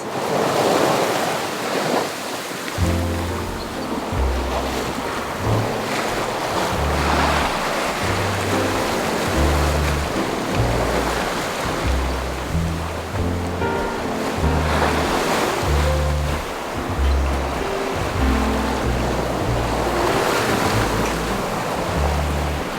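Strong wind and heavy ocean waves roar continuously around a sailboat on an Atlantic crossing, with steady broadband rushing, gusty buffeting on the microphone and low thumping surges throughout, no voices.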